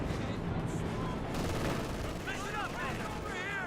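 Battle gunfire from Company of Heroes 2, with Panzer Grenadiers, a 251 half-track and a T-34 in the fight, rattles continuously under a dense game mix, with rapid shots and whistling tones layered over steady combat noise.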